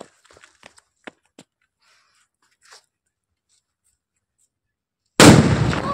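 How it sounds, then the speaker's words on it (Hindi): A sutli bomb firecracker at a small New Year party goes off in one loud, close blast at the very end, following quiet scattered ticks and clicks. "ये सुट्री बम देखिए दोस्तों, इसको हम दगाएंगे"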